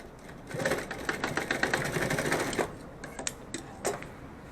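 A sewing machine stitches fabric for a cloth pen pouch, running in a quick rattling burst for a couple of seconds, then a few short, separate stitching bursts up close.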